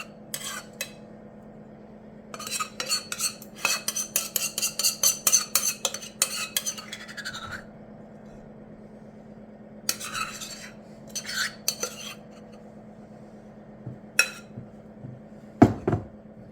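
Spoon or spatula scraping and spreading a cranberry spruce tart mixture around the bottom of a bowl, a run of close, busy scrapes and taps with quiet pauses and a sharper clatter near the end.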